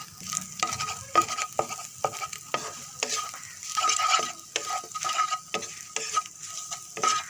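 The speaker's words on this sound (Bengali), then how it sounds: "ডিমগুলো ভালোভাবে ভেজে নিব" Quail eggs with salt fry in a pan, a close sizzle under frequent quick spatula scrapes and clinks on the metal that keep a busy, uneven rhythm, with no speech.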